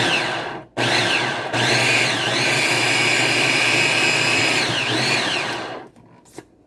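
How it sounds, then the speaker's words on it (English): A blender whirs loud and steady while blending keto strawberry ice cream, running in two long bursts separated by a short gap, its motor pitch rising and dipping as it churns, then cutting off. "Alright, so I'm going to blend this together."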